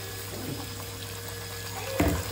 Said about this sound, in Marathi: चमच्यावर पाणी टाकायचं. हा मसाला जळू नये म्हणून.